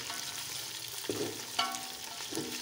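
Beef kebabs frying in a pan with browned onions: a steady low sizzle with a few sharp clinks and scrapes of stirring scattered through, no talking.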